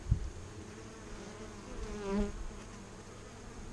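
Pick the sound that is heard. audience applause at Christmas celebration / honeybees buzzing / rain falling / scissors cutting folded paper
honeybees buzzing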